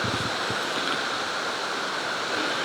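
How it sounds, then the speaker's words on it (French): The Cascade du Bout du Monde waterfall near the village of Enval roars as a steady, broad rushing wash of falling water, constant and fairly loud, with a faint thump at the start and no talking. "La cascade du bout du monde."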